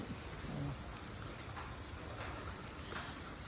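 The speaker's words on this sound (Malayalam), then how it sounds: "നല്ല മഴ പെയ്യുന്നുണ്ട്" Steady rain pours down, a dense, even hiss that fills the whole clip with no voices.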